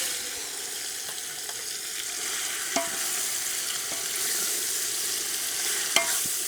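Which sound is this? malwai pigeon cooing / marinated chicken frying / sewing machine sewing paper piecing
marinated chicken frying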